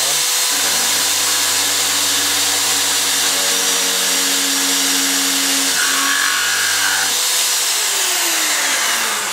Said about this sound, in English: We'll just turn the lathe on.